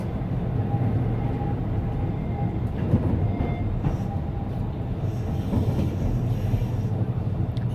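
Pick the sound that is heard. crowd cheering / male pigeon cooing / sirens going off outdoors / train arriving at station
train arriving at station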